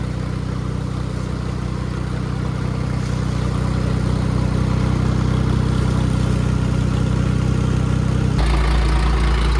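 A Swaraj 722 XT tractor engine running steadily at about 1400 RPM, a loud, close, continuous diesel drone with a constant low rumble that shifts in tone near the end, with no voices.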